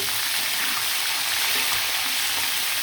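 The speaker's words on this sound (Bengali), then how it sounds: "মাংসগুলো কিন্তু একদম লাল লাল করে ভাজা হয়ে গেছে" Pieces of poultry chicken fry hard in hot oil, giving a loud, dense, unbroken sizzle and hiss close by, with no voices.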